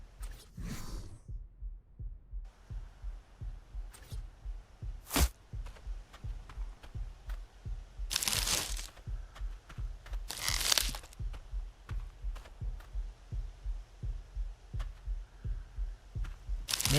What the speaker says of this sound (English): May be able to hear the heart beating in my head.